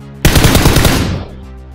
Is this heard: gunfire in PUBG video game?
yes